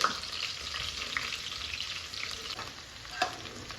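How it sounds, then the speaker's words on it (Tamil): Ginger and garlic sauté in a pan with a steady, close hiss of frying, and a few faint scrapes and clinks of a spoon stirring, with no talking. "நானே வதக்குறேன்."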